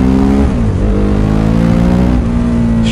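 A motorcycle engine revs loud and close, its pitch sweeping down then climbing again as it accelerates hard, a strong continuous drone with no voices.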